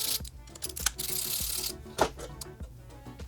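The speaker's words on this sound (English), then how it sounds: "I'm using a 5mm Allen here on these" A 5mm Allen key turning screws on a fender eliminator bracket for a 2022 Yamaha XSR 900, a close metallic ratcheting and scraping with a few sharper clicks and clanks, no talking.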